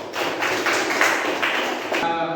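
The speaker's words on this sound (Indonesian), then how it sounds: "kita berikan aplaus untuk kita semua dulu" A classroom of pupils claps together in a dense, steady burst of applause that stops abruptly near the end.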